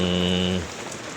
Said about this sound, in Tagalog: mag-iingat po ang lahat sa walang tigil na ulan.